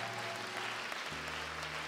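A church congregation claps and cheers in praise of the Lord, a dense, steady wash of applause from the crowd while sustained organ or keyboard chords play beneath it.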